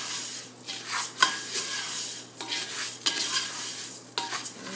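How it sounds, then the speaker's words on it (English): Risotto rice tossed in olive oil in a pan, toasting: steady close scraping and stirring with soft sizzle underneath, with a few sharp utensil knocks against the pan at intervals, no talking. "Give it a toss. Try to get it coated in the olive oil."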